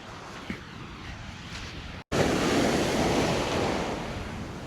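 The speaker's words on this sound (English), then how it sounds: "The waves are so strong," Heavy surf roars steadily at Praia da Lagoa de Albufeira beach, Portugal, with wind buffeting the microphone; after a brief dropout, the crashing waves return louder and fuller.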